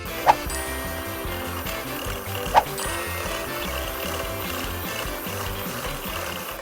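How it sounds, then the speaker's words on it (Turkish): Butter, brown sugar, eggs and honey being beaten into cake batter with a motorized mixer, a constant whirring mechanical drone with a fluttering rattle and two sharp knocks against the bowl. "2 yumurta, 2 yemek kaşığı da balı ekliyorum ve çırpmaya devam ediyorum."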